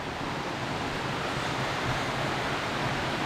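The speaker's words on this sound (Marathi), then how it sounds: "हा आहे तो वॉटरफॉल" The Savatkada waterfall, its flow reduced after the monsoon, sends up a steady, dense rush of falling water that holds evenly throughout with no voices.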